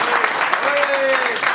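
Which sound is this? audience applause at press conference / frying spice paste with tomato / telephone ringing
audience applause at press conference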